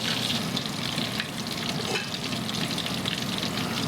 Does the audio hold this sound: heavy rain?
no